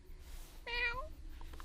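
A stray cat gives a single clear, drawn-out meow, close and distinct against a quiet room, followed by faint small sounds.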